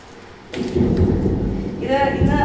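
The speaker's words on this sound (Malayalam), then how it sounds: "പുറത്ത് നല്ല ഇടി വെട്ടുന്നുണ്ട്" Heavy thunder rolls outside on a rainy day, a loud deep rumble that swells and holds over a steady rain hiss heard from indoors, with no talk over it.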